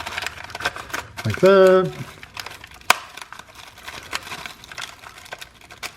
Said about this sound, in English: we're going to cut and remove the film from the tray except over the sauce